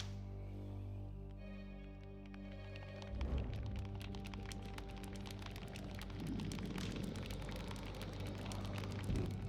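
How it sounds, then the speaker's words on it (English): A shower of rain falls at sea over a small boat, starting as a soft patter and building into a dense, steady drumming of drops that stays loud and continuous to the end, over a low rumble. "On cue, a shower of rain tumbles over them"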